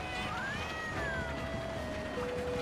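Cats meowing in the PSP game Monster Hunter Portable 3rd: several drawn-out, wavering meows over a steady game-music bed, with faint talk in the background.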